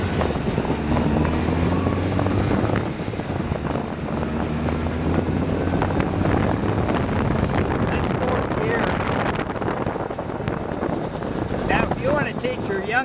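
A 2011 Joyner Trooper UTV with a manual transmission is driven, its engine a low rumbling drone under heavy wind buffeting on the microphone, with someone talking over it.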